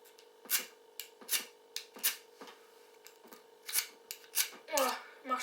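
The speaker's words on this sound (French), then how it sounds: "Un fire steel qui marche très bien." A fire steel is scraped repeatedly, bright sharp rasping strikes coming about once a second, close and crisp over a faint hum.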